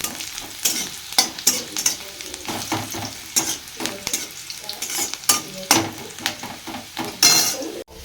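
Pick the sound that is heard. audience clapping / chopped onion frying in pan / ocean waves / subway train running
chopped onion frying in pan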